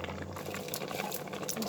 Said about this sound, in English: I'm gonna bring it to the boil